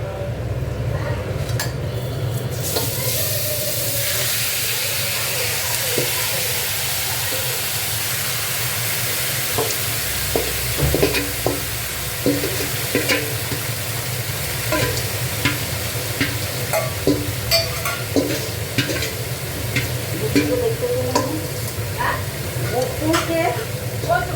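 Chicken pieces frying in hot oil and stirred in a pan make a loud, continuous sizzle with repeated scraping and clattering strokes that grow busier toward the end, and no voices.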